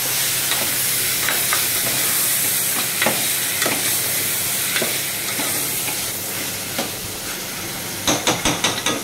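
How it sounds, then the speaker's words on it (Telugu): Washed mutton for a gravy hits a hot pan of browned onions, giving a loud, continuous sizzle and steam hiss, with scraping stirs and a quick run of spoon knocks near the end. "ఇప్పుడు మటన్ కడిగి వేస్తున్నాను. 2 సార్లు కడుక్కున్నానండి. మంచిగా కలుపుకోవాలి."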